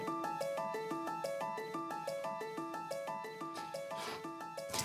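Bright plucked notes from Ableton's kalimba plastic preset cycle in a steady repeating figure, each note trailed by echoing delay repeats, with a brief noisy swell near the end.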